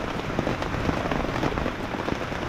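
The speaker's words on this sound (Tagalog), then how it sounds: "So kung kanina medyo makulimlim lang, ngayon na ulan na." Rain falls on a beach campsite with a shelter nearby, a dense, continuous patter and hiss of drops hitting surfaces, loud and close, with no voices.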